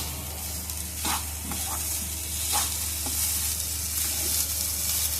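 Coconut barfi mixture of grated coconut and sugar stirred in a pan, a steady scraping and soft sizzle with a low constant hum beneath and a few louder spoon strokes, close and without talk.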